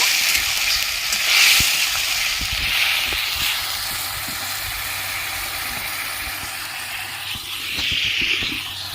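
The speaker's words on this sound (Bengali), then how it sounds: "ধুয়ে রাখা ডালিয়া দিয়ে দিচ্ছি ভালো করে কষিয়ে নেব" Washed dalia sautéing in a pan, an even, moderately loud sizzle with soft hissing swells and a few faint stirring scrapes, no voices heard.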